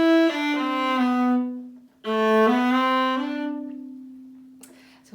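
Viola notes bowed in a jazzy long-short swing rhythm, played in two clear, close phrases with a brief pause between them and a sustained low note at the end.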